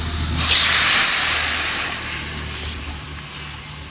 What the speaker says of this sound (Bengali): আলুগুলো তো লাল লাল করে ভেজে নিয়েছি, এবার পরিমাণ মতো জল দিয়ে দেব